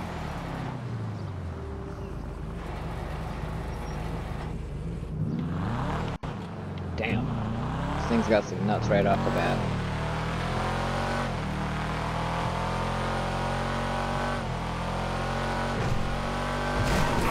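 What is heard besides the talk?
Karin Sultan Classic car driving in GTA 5 video game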